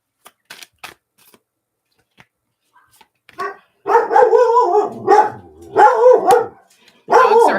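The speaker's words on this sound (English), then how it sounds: "Dogs are having fun today." Several dogs barking loudly nearby in a burst of repeated overlapping barks after a few faint clicks and taps, the barking coming in three clusters separated by brief pauses.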